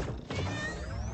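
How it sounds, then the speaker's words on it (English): A little cat meow effect from a Fortnite battle pass menu, a single bright synthetic meow with a rising tone layered over game music. "Oh my god, with the little cat noise, too."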